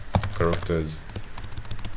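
Rapid clicking keystrokes on a computer keyboard, close and fairly loud, go on throughout while someone talks over the first half.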